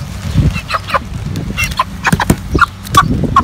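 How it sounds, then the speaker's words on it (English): Broiler hens cluck in short, repeated bursts at close range, with busy fowl calls overlapping on a farm as the birds are set on a scale. "So here I have a pair of hens and I'm gonna weigh them."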